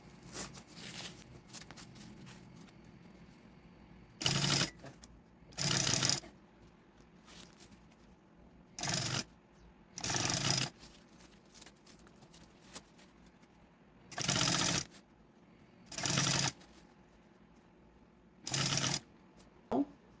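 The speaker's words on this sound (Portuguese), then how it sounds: "Vou puxando e vou costurando." A sewing machine stitches a gathered shoulder-bag strap in short, loud rattling bursts of about a second each, separated by quiet pauses while the fabric is pulled along. The sound is close, with no talking over the bursts.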